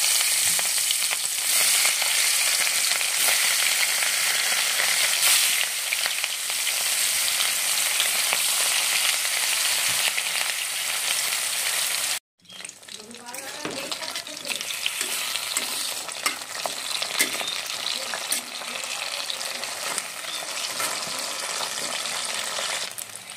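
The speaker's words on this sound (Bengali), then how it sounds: "তেলটা গরম হয়ে গেছে, এবারে একে একে মাছগুলো আমি ভেজে নেব।" Loud, steady hiss of rohu fish frying in hot oil, briefly cut off midway then resuming with crackling and sputtering, close up and uninterrupted.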